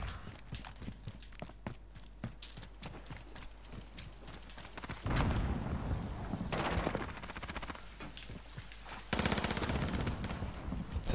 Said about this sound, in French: Ça tire dans tous les sens.